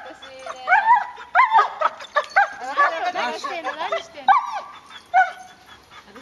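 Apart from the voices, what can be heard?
dog barking and whimpering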